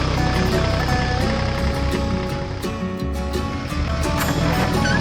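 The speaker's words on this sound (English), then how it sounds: "Both machines, ready for action, started off with the roar of their engines." Two farm tractors setting off together, engines roaring in a loud, continuous broadband rumble with steady low harmonics that dips briefly and then swells again.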